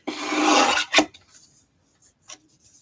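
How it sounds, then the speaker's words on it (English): A paper trimmer blade slices a card piece to size at 1 1/8 inch during a card-making workshop: one continuous rasping cut of about a second, then a short sharp snap and a few faint clicks, close and clear. "you're going to trim it at 1 1/8"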